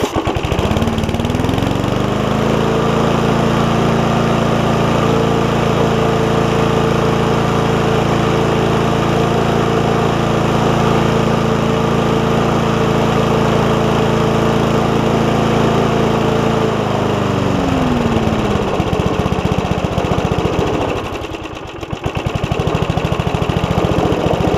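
An old top-pull Briggs & Stratton engine on a Craftsman push mower, running loud and close at a steady idle, revving down and later back up, with one brief dip near the end.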